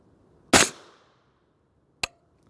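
Rifle firing a subsonic 300-grain Hornady A-Tip bullet: one sharp, loud crack with a short decaying tail, followed about a second and a half later by a fainter, brief impact snap.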